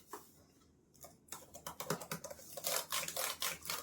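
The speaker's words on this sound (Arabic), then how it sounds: "الكيبورد الشهيره بتاعت ابل" Rapid keystrokes on an Apple MacBook Pro M1 laptop keyboard, close and crisp, starting sparse and growing into a dense, steady patter of clicks with no talking.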